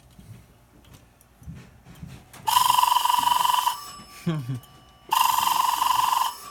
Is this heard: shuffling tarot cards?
no